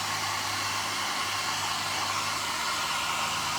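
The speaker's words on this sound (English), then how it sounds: "So I just use my little blow dryer." A small handheld blow dryer blasts steadily to dry a layer of Mod Podge for a crackle paint finish, a loud, continuous whooshing hum with no voices.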